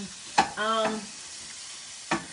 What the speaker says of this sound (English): Y'all hear that? Like that sizzle.